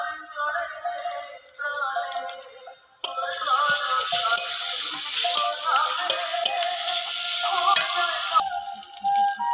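Chopped onion and ginger-garlic paste frying in a pan, a steady loud sizzle that bursts in partway through and carries on alone after a quieter stretch of other kitchen sounds.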